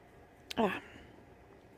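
A short, gravelly throat clearing, close and fairly loud, cuts through a quiet room, followed by near silence.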